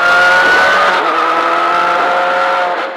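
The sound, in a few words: Ford Fiesta turbo rally car engine and tires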